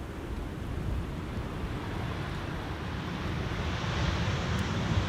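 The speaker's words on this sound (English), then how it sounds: "Thought I heard them spooling up the reversers as slightly further north." An airliner landing on runway 18R at Amsterdam Schiphol spools up its thrust reversers, heard as a distant, steady low roar that swells slightly toward the end.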